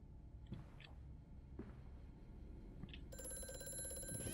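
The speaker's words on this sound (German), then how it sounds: "Oh, Telefon." A telephone rings in the horror game Amnesia: A Machine for Pigs. The ringing is steady, rings out from partway through, and follows quieter thuds and low ambient rumble.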